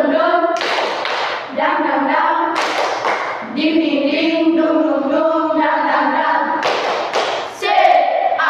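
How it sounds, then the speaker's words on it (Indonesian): A school class claps a rhythmic tepuk semangat cheer in unison, with bursts of hand claps and thumps alternating with chanted syllables from many young voices, close and lively. "Ibu minta Melan untuk memimpin kita dalam tepuk semangat."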